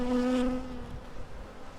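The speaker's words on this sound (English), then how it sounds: "Oh my god, the bees just keep going in the box." Honeybees from a colony being removed buzz loudly and close by, a steady insect drone that is strongest at first and then eases to a lower hum.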